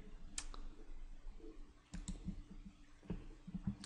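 A computer mouse clicks a few times while a new folder is set up for an FTP file upload. The clicks are faint, sharp and spaced apart over low background hum, with no talking.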